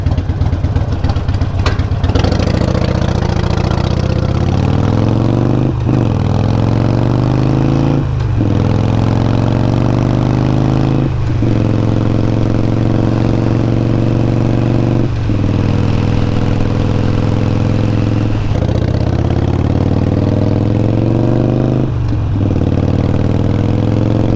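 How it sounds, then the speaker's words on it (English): Motorcycle engine running loud and steady, with repeated short throttle blips for rev matching during downshifts, rising and falling at intervals of a few seconds, with no talk over it. "that little blip that I'm doing to basically get it to rev match"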